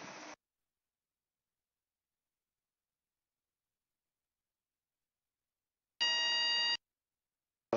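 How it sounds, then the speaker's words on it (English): Two electronic buzzes from a training aircraft cockpit break an otherwise silent stretch: a short one at the start, then a longer steady buzz several seconds later. "Buzzer."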